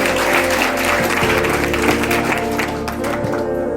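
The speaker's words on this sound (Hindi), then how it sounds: "एक बार जोरदार तालियां कोरोना वॉरियर्स के।" An audience at a Women's Day event claps for Corona warriors, a brief burst of applause mixed with sustained tones from a sound system.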